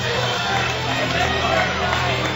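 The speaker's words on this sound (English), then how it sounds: "Everyone from everywhere is chanting Spark right now." A packed EVO 2011 BlazBlue grand finals audience chants the name Spark, a steady wall of massed voices with a sustained tonal drone, unbroken from start to finish.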